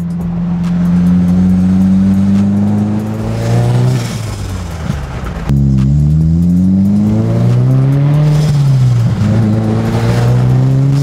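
A 2022 Subaru WRX on an unrevised, non-stock tune revs hard nearby, its engine note climbing and falling in two long sweeps with a brief cut between them, loud and alone.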